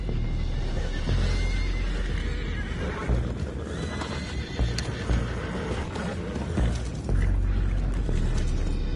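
Horses neigh and whinny loudly in a PS4 video game, with clattering hooves and mechanical clanking in a dense, continuous game soundscape that lasts the whole stretch.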